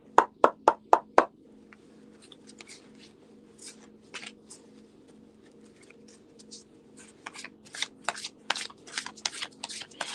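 Tarot cards shuffle close by, starting with a quick run of sharp slaps, then a quieter stretch and a return to rapid riffling and patting bursts, with faint talk in the background.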